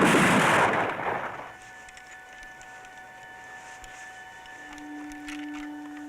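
A rifle volley fired by a firing squad in a 1970s TV movie bursts out loud at the start, then decays into a quiet ringing tone and faint background hum.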